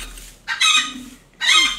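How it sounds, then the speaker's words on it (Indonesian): Background chickens, including a bantam hen, cluck and call in two loud, bright bursts separated by a short pause, with no voices over them. "Iya backsoundnya ayam."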